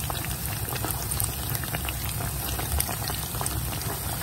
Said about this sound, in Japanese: 揚げてきます